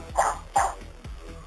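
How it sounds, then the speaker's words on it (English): A dog barks twice in quick succession, close and fairly loud, followed by a softer third bark. "Other than my dog barking."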